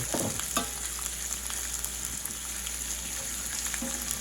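Meat sears in a hot pan while being basted, giving a steady crackling sizzle with a low background hum and a few soft knocks of the spoon. No speech.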